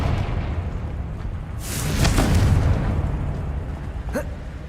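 A Confringo fire spell in Hogwarts Legacy bursts in a single loud whooshing explosion around the middle, followed by a short sharp pop near the end over a low rumbling background.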